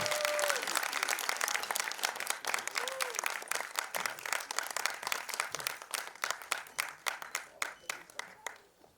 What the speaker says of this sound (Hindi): Keep clapping till they get up on stage.